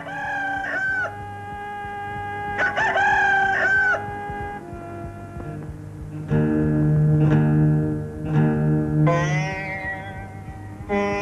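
A rooster crows several times in a Christian Hindi film scene depicting Peter's denial of Jesus. The crows are loud, drawn-out calls repeated at intervals over a low steady background, with no talking.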